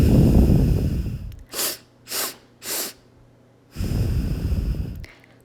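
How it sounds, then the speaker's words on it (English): In a breathing exercise, a long breath is followed by three short, sharp nasal sniffs through the nose in quick succession, then one long, full exhale. The breathing is close and clear, with no talking. "we're going to inhale 4 times in 4 short sniffs and exhale all the way out"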